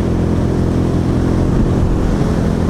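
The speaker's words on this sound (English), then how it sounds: "The engine though isn't too intrusive. It's kind of a gentle hum" While riding, a Royal Enfield Meteor 350 engine gives off a steady, gentle low hum, continuous and moderately loud, blended with road and wind rumble and no voices.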